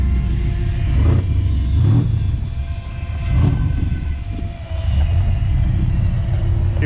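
A ute engine drones low and steady while driving, with rumbling road noise, a swelling pass near the start and middle, and a brief dip before settling again.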